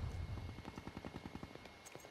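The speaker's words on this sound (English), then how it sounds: "Oh, shotguns!" Gunfire in Black Ops 3 with a shotgun, a steady run of sharp shots about every tenth of a second over a low rumble, then a louder blast at the very end.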